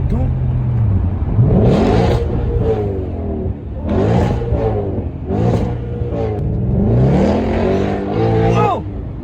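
A 432-horsepower car engine revs hard several times, its pitch climbing and falling in loud surges, while people talk excitedly over it.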